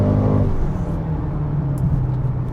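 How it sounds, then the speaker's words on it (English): 2021 Mercedes GLB35 with 302 hp in Sport Plus mode, a deep exhaust burble as the transmission downshifts, falling from a louder throaty rev into a steady low drone, heard from inside the cabin. "you can hear right away the exhaust note changed as well"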